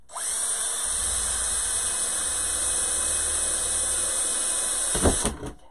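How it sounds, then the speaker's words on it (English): A power drill bores holes in a wooden sign with a steady, high, continuous whine that holds for about five seconds. It is close and loud, then ends with a short clatter. "Bet y'all didn't know I could handle a drill too, right?"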